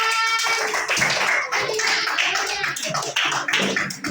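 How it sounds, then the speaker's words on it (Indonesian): A classroom of students applauds together, a dense burst of hand clapping that runs steadily and close for several seconds, with a few faint voices mixed in. "tepuk tangan."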